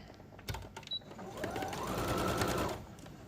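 Sewing machine back-stitching a fitted fabric face mask: a few short clicks and bumps, then a close, steady whirring run of about a second and a half that stops abruptly.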